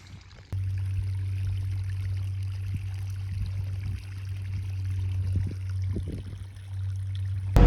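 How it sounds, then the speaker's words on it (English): Water gushes steadily out of a field tile drain, a continuous close rushing pour over a low, constant engine drone, with no talking. "I like it when you find a tile drain like this. It's pouring out of there."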